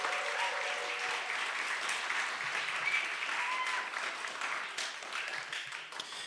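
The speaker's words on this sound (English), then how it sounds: "let's give them another round of applause" Sustained applause from an audience at a state poetry recitation competition final, a dense, even wash of many hands clapping steadily for the full stretch with no break.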